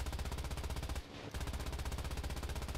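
Rapid, continuous automatic gunfire rattles at a steady pace in War Thunder, from an Alecto Mk.1, briefly stopping for a moment before resuming.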